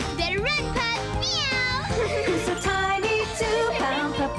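Cartoonish cat meows in a 1996 toy commercial for Pound Puppies pet collections, several rising mewing calls over a busy music bed with excited voices and jingles throughout.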